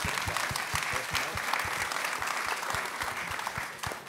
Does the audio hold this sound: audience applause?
yes